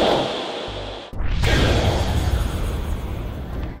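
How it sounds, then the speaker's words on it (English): A rising swoosh sweeps up, then a loud, roaring burst erupts with heavy low rumble and sustains for a couple of seconds before easing slightly. "and anime burst."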